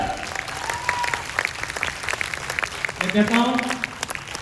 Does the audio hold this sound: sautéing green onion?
no